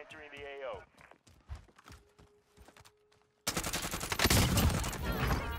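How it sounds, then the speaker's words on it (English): Rapid gunfire in a Warzone battle royale match bursts in loud and dense in the second half, after a quieter stretch of scattered in-game clicks and a brief tone, with players' voices talking over the early part. "Yo, someone sniped me."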